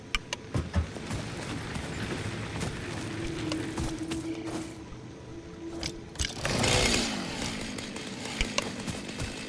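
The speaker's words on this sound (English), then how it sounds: "Chainsaw." A chainsaw in the video game Satisfactory cuts through trees with buzzing bursts and thuds, a loud surge near the middle and crackling foliage, with no talk.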